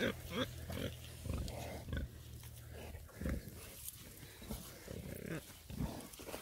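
Pigs grunt low and close in short bursts while a young Posavski scent hound runs past them during early training, with rustling movement throughout.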